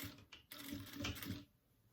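Sewing machine stitching along the edge of a cotton dish towel, a short close burst of rapid mechanical needle chatter that starts, pauses briefly, runs for about a second, then stops.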